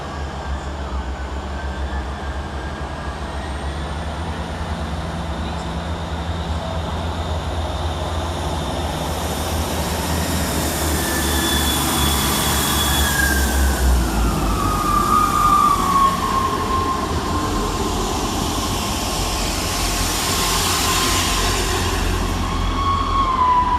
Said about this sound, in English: Next to depart at the station is 158788 and 158799 with the 1242 Northern East Midlands Railway service to Nottingham.